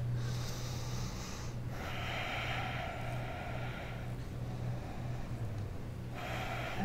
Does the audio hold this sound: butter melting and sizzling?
no